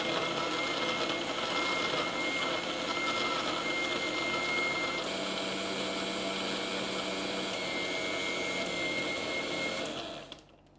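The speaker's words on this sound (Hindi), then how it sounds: "चॉकलेट सिरप और लास्ट में वनीला एसेंस डालकर अच्छे से ब्लेंड कर लेंगे।" A blender runs loud and steady, whirring an Oreo milkshake with ice cubes, chocolate syrup and vanilla essence, holding one continuous drone for about ten seconds before winding down and cutting off near the end.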